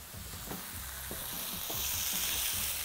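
Mushrooms fry in a pan with a close, steady sizzle and crackle, broken by soft periodic stirring scrapes, with no voices.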